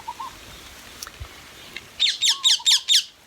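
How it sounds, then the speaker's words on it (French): A passing bird near the sea gives a run of five sharp, rapid squawking calls, fairly close and loud, over a low wash of background noise. "entendre l'oiseau qui vient de passer"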